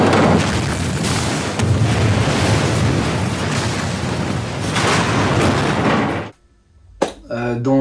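A real Boeing 747 blown up for the film Tenet: a loud, sustained roaring blast with rumbling debris that fills about six seconds, then cuts off abruptly, followed by a short burst of voices.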